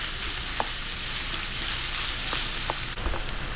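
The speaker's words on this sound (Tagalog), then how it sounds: "gisa-gisahin lang po natin hanggang mag light brown yung ating giniling" Ground pork or beef sautés in a hot pan, a dense continuous sizzle with occasional sharper pops and scraping stirs, close and loud with no talking.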